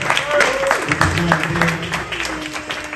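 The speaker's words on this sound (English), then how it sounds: "I just want y'all to put a round of applause together for Mr. Devontae Green." A short burst of audience applause, dense clapping mixed with whoops and voices, steady and fairly close for a few seconds.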